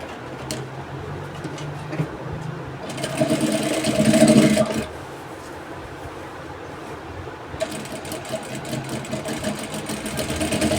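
Sewing machine stitching a seam on an off-shoulder shift dress, a steady mechanical whir that runs in bursts, rising louder midway, pausing, then starting up again close by.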